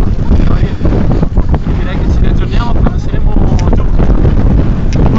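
Strong, gusty mountain wind roars and buffets the microphone continuously on a snowboarding weekend, loud and rumbling throughout, with faint voices buried underneath.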